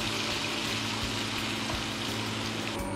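Chopped onions fry in a pan, a steady close sizzle with soft crackling and faint low thumps, and no one speaking.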